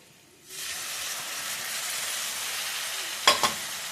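Chili powder masala sizzles and fries in a pan for an Andhra-style Guntur gongura mutton curry, a steady loud hiss starting abruptly and holding, with two brief clatters near the end.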